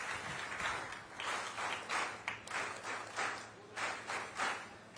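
An audience at a government event claps to welcome the chief minister, a dense, steady patter of many hands with rhythmic swells, heard from a modest distance.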